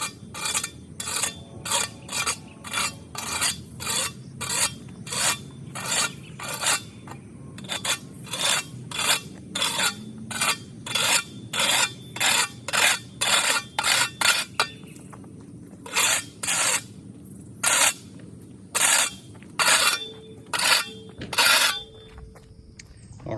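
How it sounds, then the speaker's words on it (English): Flat shovel blade scraping along the edge of a concrete patio to clear cut grass, a steady run of about twenty-five rhythmic rasping strokes, close and loud, with no talking. "you want to take your flat shovel and you just want to slide it on the sides, take off any excess"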